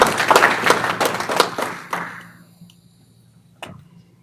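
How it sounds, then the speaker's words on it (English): Audience applause for a guest at a cricket coaching event in San Francisco: a burst of many hands clapping, loud at first, then thinning and fading out within about two seconds, followed by a quiet room and a single faint knock. "give him a big hand of applause for what he's done for cricket"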